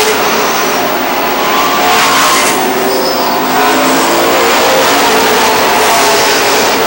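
Race cars thunder past side by side at Lee Speedway in New Hampshire, a loud continuous engine roar with rising and falling revs as they come off a turn, close and sustained without a break.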